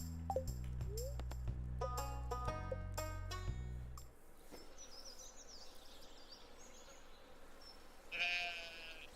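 Sheep bleating in the farming video game Stardew Valley, a short synthetic bleat near the end after game music stops, with soft ambient insect-like buzzing in between.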